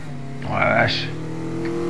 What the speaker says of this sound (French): Y a du mal le 4x4 hein. Ça s'entend, hein, au bruit de moteur là.